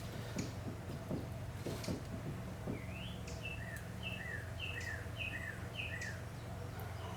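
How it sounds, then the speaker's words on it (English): Outdoors, a bird sings a short series of repeated chirps at a moderate distance, over steady background hum and a few knocks. "A lovely bird out there, see."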